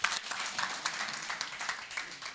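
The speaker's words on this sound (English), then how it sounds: "Please give him a round of applause." Light scattered applause from a modest audience at an accounting and financial management program info session, a short patter of claps at moderate distance with no talk.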